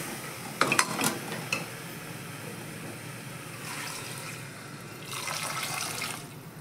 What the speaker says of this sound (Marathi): याच्यामध्ये आता आपण घालून घेऊया पाणी